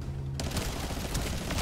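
Bursts of rapid gunfire in a first-person shooter video game, a dense crackling fusillade with sharp repeated shots after a brief quiet start, loud and close.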